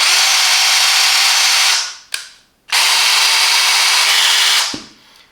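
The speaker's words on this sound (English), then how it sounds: "Screwing or drilling." A Parkside PABH 20-Li C3 cordless hammer drill, single-speed with trigger speed control, whirs loudly at high speed, stops briefly with a click, then runs again before winding down.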